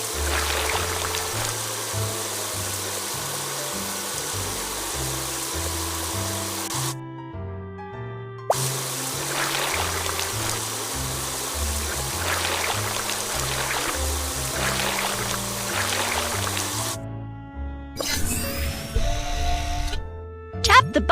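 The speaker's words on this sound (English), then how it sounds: "First, drag the water sprayer to rinse off the mud." A water sprayer hisses in a children's fire truck washing game as mud is rinsed off, a steady spray sound under cheerful background music with brief breaks in between.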